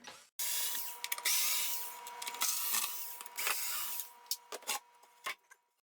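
A power driver backs screws out of glued plywood, its motor whirring loudly in repeated bursts of varying length with short pauses between, close and clear with no talking.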